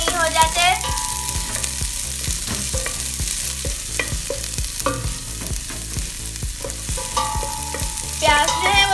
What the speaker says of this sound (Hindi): और अब हम इसमें प्याज डालेंगे जब तक कि ये सेमी ट्रांसपेरेंट नहीं हो जाते।